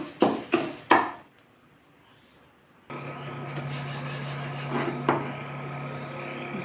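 Mung lentils dry-frying in a pan give a few quick scraping stirs, then a quiet pause, followed by a steady, close hiss of cooking.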